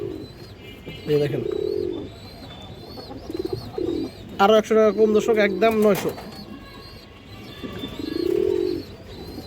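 Pigeons kept for sale coo in low, rolling bursts, several calls spread across the moment, with someone talking over them at a market stall and some chirping in the background.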